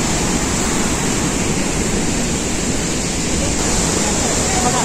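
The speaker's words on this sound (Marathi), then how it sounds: "सुंदर धबधबा आहे" Davis Falls in Pokhara, Nepal, where water surges out of the ground and plunges into a gorge, roars as a loud, constant broadband rush with no breaks, heard from behind iron railings.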